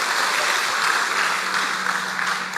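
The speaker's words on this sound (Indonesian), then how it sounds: "Coba beri tepuk tangan yang hebat buat dia." Church congregation applauding at JCC Cijantung, a dense, steady wash of clapping from many hands that fills the room continuously without a break.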